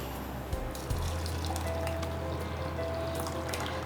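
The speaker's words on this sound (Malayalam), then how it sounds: "അതിനി അരിപ്പയിലൂടെ ഒന്ന് അരിച്ച് മാറ്റും." Blended mint drink strained through a sieve, a steady soft wash of trickling liquid running continuously with a couple of small knocks near the start.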